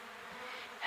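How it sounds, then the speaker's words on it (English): Bees trapped inside a farmhouse in August buzz steadily against a window, a continuous close insect drone that swells louder near the end. "Bees trying to get out the window."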